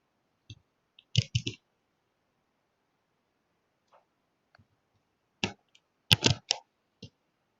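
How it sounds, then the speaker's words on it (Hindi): Touch typing on a computer keyboard: scattered bursts of sharp key clicks in small clusters separated by pauses, close and quiet, with no voices. "आप जब कीबोर्ड प्रेस कर रहे हैं तो आपको याद रखना पड़ेगा कि कौन सा उंगली कौन से अक्षर पे है।"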